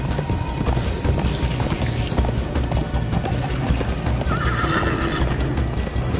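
Horse hooves clatter in a steady clip-clop gallop with whinnies, from a ride in the game Minecraft: Story Mode, loud and continuous over music and bird chirps.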